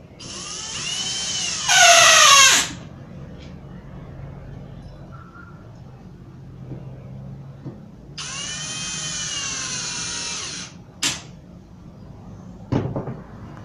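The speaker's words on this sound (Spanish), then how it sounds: "Igualmente vas a colocar la pieza que está enfrente de la que acabas de fijar con otros 2 tornillos" Power drill driving screws into a melamine shelf panel: two loud whirring bursts of a couple of seconds each, the first rising in pitch, with a few short knocks and clicks in between.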